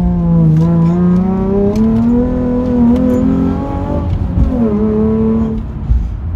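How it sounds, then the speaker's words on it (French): A Nissan 350Z sports car engine revs and accelerates loudly and close by, its pitch climbing through gear changes with a brief drop before rising again. "Appuie sur l'accélérateur."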